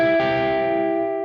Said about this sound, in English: slide up the third string out of the box, and you get this common double stop sound.